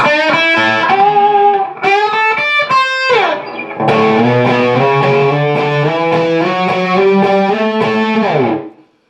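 Distorted electric guitar plays the closing phrase of a solo: bending notes and octave runs with vibrato, ringing out and ending abruptly.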